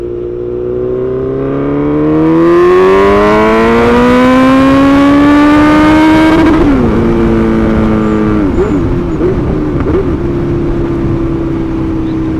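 A Suzuki Bandit 1250 motorcycle pulls hard in second gear, its engine note climbing steadily under load for several seconds before easing off, then settling into a steady drone, loud and close with wind noise.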